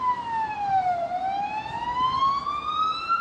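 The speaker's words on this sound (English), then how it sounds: "Police motorcycle." A police motorcycle siren sounds close and loud, one continuous tone that dips and then climbs steadily over road noise.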